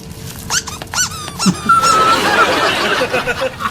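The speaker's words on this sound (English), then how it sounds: "this is a dog toy" A squeaky dog toy is squeezed several times in a sitcom scene, giving short, bright, close squeals, then a longer drawn-out squeak that fades into background hiss and faint laughter.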